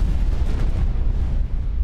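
A heavy Blast Mortar weapon fires in the space game X4 Foundations, making a loud, deep booming blast with a rumbling low body that sustains steadily throughout, with no voices.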